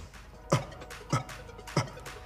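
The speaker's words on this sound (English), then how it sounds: "you want to let out little spurts of air" Three short, breathy puffs of air pushed from the throat, evenly spaced about half a second apart, close and fairly quiet.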